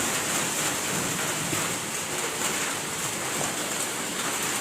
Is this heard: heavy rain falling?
yes